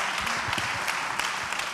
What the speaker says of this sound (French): Applaudissements, encouragement encore un petit peu pour l'arrivée.